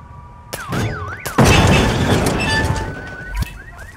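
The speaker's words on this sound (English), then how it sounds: "Hear that alarm? Better check it out." Alarm going off in the Hitman video game, a wavering siren tone cutting through loud crashing noise and a burst of clatter.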